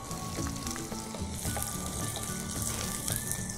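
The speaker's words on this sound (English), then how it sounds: "Once the oil has heated up, to this I'm going to add in the pieces of reserved onions." Onion pieces sizzle in hot white oil for a Goan sorak curry, a steady crackling fry that runs continuously, close and moderately loud, with faint clinks and a background tone.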